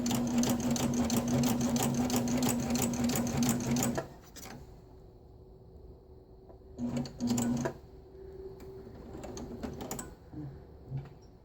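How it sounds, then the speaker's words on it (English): A Baby Lock Ovation sewing machine with a knit binder runs a burst of stitches, a loud rapid mechanical whirring chatter for about four seconds, then stops, followed by a couple of short stitch bursts and quieter handling. "I'm going to sew some stitches, and I can see that it's really going where I want it to go"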